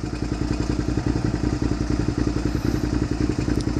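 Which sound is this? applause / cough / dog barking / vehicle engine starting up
vehicle engine starting up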